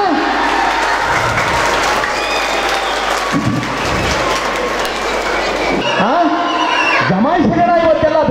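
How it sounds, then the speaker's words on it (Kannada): An audience claps through most of the stretch at an honouring ceremony in a wedding hall in Shivamogga, a loud sustained wash of applause that fades out as a voice speaks over it near the end. "ಖುಷಿಯಾದ್ರೆ ಮಾತ್ರ ಚಪ್ಪಳೆ ತಟ್ಟಿ."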